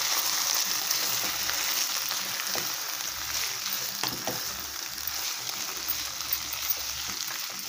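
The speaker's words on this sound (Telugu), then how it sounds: "ఇప్పుడు ఈ బోటిని ఇందులో వేస్తున్నా ఇందులో బాగా వేగాలి ఇది" Pieces of boti (goat tripe) sizzle steadily in hot oil with fried onions and green chilies, a continuous dense crackle that holds close and even throughout with no voices.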